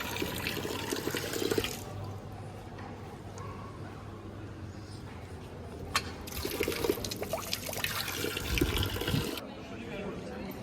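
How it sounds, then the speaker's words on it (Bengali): Water runs from a public drinking-water tap into a bottle outdoors at Bratislava Castle, a continuous splashing rush with uneven swells, gurgles and occasional thuds, set in open-air background noise. "চলুন একটা জল ভরে নিই"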